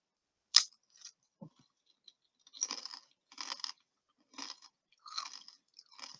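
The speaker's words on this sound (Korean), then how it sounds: "제가 이렇게 씹는 소리 들려요?" Crunchy snack food, potato chips or similar, chewed close to the mic in short crisp bursts with pauses between bites, quiet and isolated with no talking.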